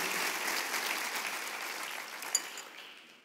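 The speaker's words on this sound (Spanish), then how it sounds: "Démosle un aplauso al Señor en esta mañana" Congregation applauding during a church service, a wash of many hands clapping that holds steady and then tapers off, with one sharp clap standing out near the end.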